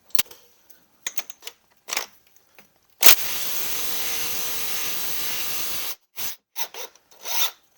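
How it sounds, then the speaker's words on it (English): An impact gun works a bolt on a 2.4L PT Cruiser engine with a broken timing belt: one sustained three-second rattling burst, close and loud, framed by short clanks and scrapes. "Dare I use the impact gun on it?"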